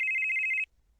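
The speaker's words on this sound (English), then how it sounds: "While you're having this conversation, Bear, your phone will go off again." A telephone rings as a sound effect in a tabletop role-playing game, one loud electronic trill of rapid pulses lasting under a second and then cutting off to silence.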